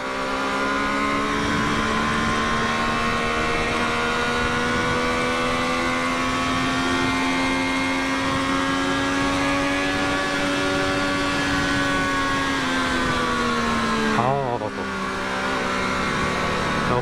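Triumph Street Triple 765RS 2023 motorcycle riding on an expressway, a loud steady engine drone with a gradually rising pitch, then a brief gear change and the engine pulling again, heard close from the rider's position.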